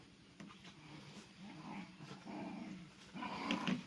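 Puppy growling softly in short, low rumbles with a few whimpers, close but faint, in a rural vegetable-farm setting with light background noise.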